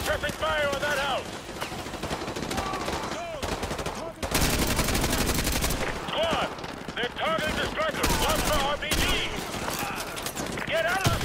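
Call of Duty Modern Warfare 2 Remastered, Exodus mission street battle: dense, loud, continuous automatic gunfire and explosive bursts, with shouted soldier voices over the top throughout.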